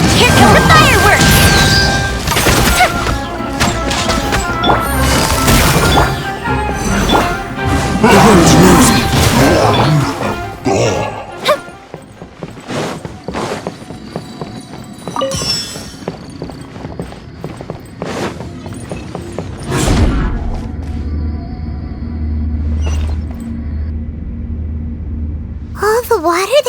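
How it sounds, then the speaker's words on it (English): Fireworks light show in Genshin Impact: dense bursts, crashes and cracks pile up loudly at first, then thin out into scattered pops before a deep rumbling swell returns; voices speak over parts of it. "Here come the fireworks!"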